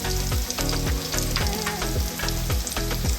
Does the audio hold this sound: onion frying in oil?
yes